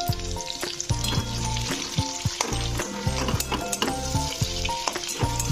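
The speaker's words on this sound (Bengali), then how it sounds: "পেঁয়াজগুলো ভাজতে দেব, বেশি করে দিচ্ছি" Plenty of onions fry in hot oil in a pan for a chicken pulao, giving a steady sizzle under music with a rhythmic beat.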